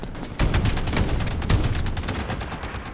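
Sustained rapid gunfire in the Modern Warfare video game fires at a tank, a loud dense stream of close shots forming a continuous rattling barrage.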